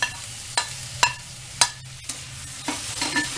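Finely chopped tomatoes frying in a pan and stirred, a soft background sizzle broken by about seven sharp scraping and clattering stirring strokes at irregular intervals, with no talking.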